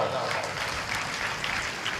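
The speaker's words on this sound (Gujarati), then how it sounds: "અમારા અમિતને જોરદાર તાળીઓના નાદ સાથે વધાવો." Live audience at a comedy and folk show applauding to welcome performer Amit, continuous crowd clapping throughout with some voices blended underneath.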